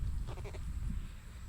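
Sheep on a rotational grazing pasture give one short, wavering bleat at a moderate distance under a low rumble of breeze and field noise.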